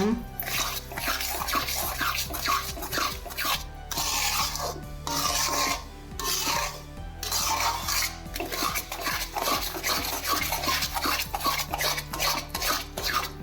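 Adadiya mixture being stirred in a pan as sugar syrup is worked in, a steady scraping and rasping of a utensil against the pan in repeated strokes, close and continuous with brief pauses, no talk.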